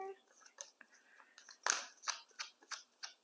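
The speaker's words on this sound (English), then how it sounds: "So a few more shuffles here." Tarot cards are shuffled close up, a quiet series of soft papery riffles and slaps in short uneven bursts.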